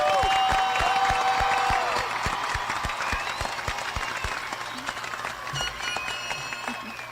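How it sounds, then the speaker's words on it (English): An audience at the West High School class of 2023 graduation ceremony applauds, giving a sustained round of clapping. It fades slowly, with a few musical tones sounding over it. "Please join me in giving them a round of applause."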